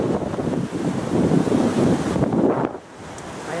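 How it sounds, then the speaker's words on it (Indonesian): Surf rolling and breaking on a quiet tropical beach at Legon Pari, a steady broadband wash with gusts of wind buffeting the microphone, loud and close throughout with no talking. "Ombaknya gede, maksudnya lautnya biru."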